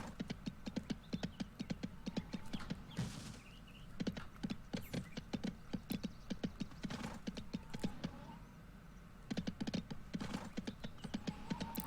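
Rapid clip-clop of horse hooves from the video game Go Vacation, a steady galloping rhythm of crisp, close hoofbeats that continues with brief pauses and no talk over it.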